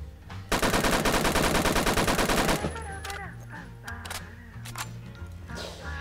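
A G3 rifle in the Roblox shooter Phantom Forces fires a loud, rapid automatic burst for about two seconds, then game ambience and talking follow.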